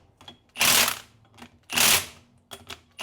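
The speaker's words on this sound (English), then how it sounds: "we're just going to tighten them up with a rattle gun just to a couple ugger dugs" Impact wrench tightening bolts on the front locker of a Toyota Prado 150, giving two loud, close buzzing rattle bursts with a third shorter burst at the end and quieter clicks in between.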